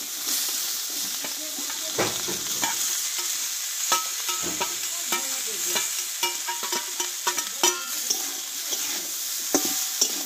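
Young jackfruit tipped into fried-down spice masala and sautéed in a pan: a steady close sizzle with frequent clicks and scrapes of a spatula stirring throughout, no talking.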